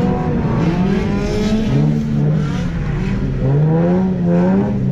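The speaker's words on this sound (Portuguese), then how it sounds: "Mano, vamos ver se a gente consegue andar com esse carro." A car engine revs and drones steadily on a wet racetrack in the rain at a street car event, loud and close with rising and falling pitch throughout, with no other sounds.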